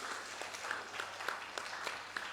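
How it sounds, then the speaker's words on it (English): Delegates at a national Rastafari conference give a round of applause, a soft, distant patter of clapping with a few sharper claps standing out, heard alone without voices. "Family, let's give yourself a round of applause,"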